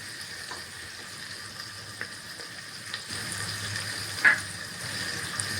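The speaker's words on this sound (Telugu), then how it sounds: "ఇది కొంచెం ఫ్రై అయ్యేంత వరకు కూడా మనం చేసుకుందాం." Oil frying in a pan for a lentil pappu charu dish, a steady quiet sizzle with a few faint clicks and a small clatter near the end, no voices.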